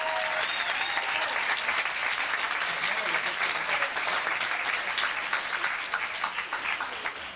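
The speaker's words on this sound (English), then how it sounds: "another applause for my committee" An audience at a Model United Nations closing ceremony claps in sustained, dense applause indoors, steady and loud before gradually thinning toward the end.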